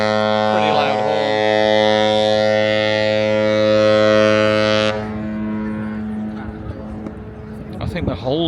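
A ship's horn sounds in Sydney harbour, a long, loud, deep sustained blast of about five seconds that stops abruptly, followed by quieter ambient noise and a few brief voices nearby.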